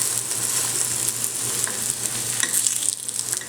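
A carrot burger fries in a pan, giving a steady close sizzle with bright crackling spatter throughout, alone with no talk.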